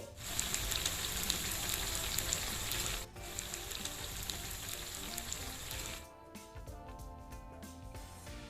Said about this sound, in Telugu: ఆయిల్లో వేసుకుని ఫ్రై చేసుకోండి.